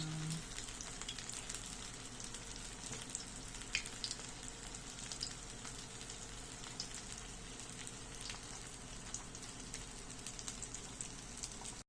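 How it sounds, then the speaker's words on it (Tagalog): Pork meatballs fry steadily in a pan with a dense, continuous sizzle and crackle that holds for the whole stretch, close and even with small popping spikes, no voices. "So kanina nagprito na tayo ng mga meatballs."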